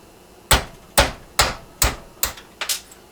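Six sharp metallic hammer strikes on a center punch against metal engine tappets, evenly spaced and close, the last two coming faster, with no talking.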